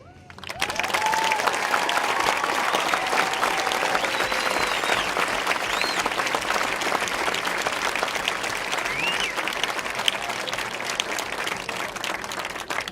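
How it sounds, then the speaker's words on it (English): A graduation audience for a high school class of 2013 gives sustained applause, a loud, dense wash of many hands clapping that swells quickly and holds steady for the whole stretch, with a few faint cheers mixed in. "Another round of applause for our speakers."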